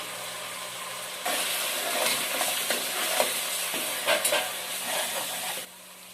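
Onions frying with turmeric powder stirred in, a steady bright sizzle that starts abruptly, carries a few scraping stirs and clatters, then cuts back to quiet.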